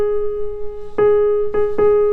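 Piano plays the Moonlight Sonata theme with the arpeggio B left out: a held tone rings steadily, then three repeated struck notes enter in a sparse, slow rhythm, close and clear, with no talking.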